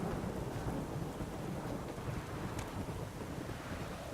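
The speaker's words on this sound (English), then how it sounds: "Kind of nice if this rain would stop, because I think the game would run a little smoother" Heavy rain with low rumbling thunder and gusting wind fills a stormy scene in The Witcher video game, dense and continuous with no voices.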